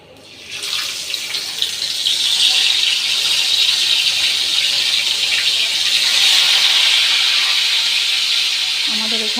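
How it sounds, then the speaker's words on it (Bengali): Red snapper (lal poa) fish frying in hot oil in a pan gives a steady, loud, close sizzling hiss that swells after the first second and holds evenly to the end. "এখন করব মাছ ভাজি এই মাছগুলো ভেজে রান্না করলে অনেক স্বাদ লাগে"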